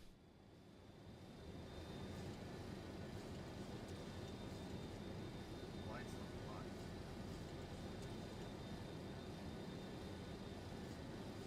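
Boeing 727 jet engines throttle up in a flight simulator, a steady broadband roar that swells in the first two seconds and then holds constant, with a faint high whine running through it.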